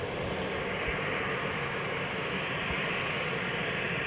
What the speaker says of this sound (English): KLM flight 1451, Embraer 190 outbound to Leeds